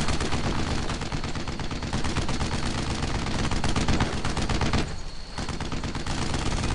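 Sustained machine gun fire in the WWII shooter Brothers in Arms: Earned in Blood, a dense, continuous roar of rapid shots that drops out for a brief moment before resuming, loud and close with no talk.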